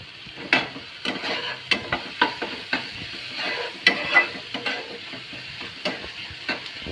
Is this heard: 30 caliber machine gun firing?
no